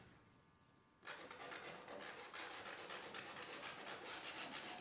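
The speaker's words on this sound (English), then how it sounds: "But then I decided to add some scratches." Steady, dense rasping of a tool scratching into the surface of an abstract painting, starting abruptly after a second of near-silence and continuing evenly at close range with no talk.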